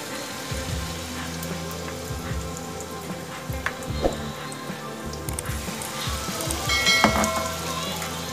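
Egg pieces dipped in batter are dropped one at a time into hot oil in a wok, giving a steady close crackling sizzle with occasional sharper pops.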